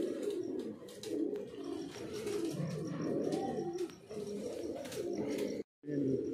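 A flock of pigeons flying overhead, with soft repeated cooing from nearby birds and occasional higher chirps, while someone talks over them.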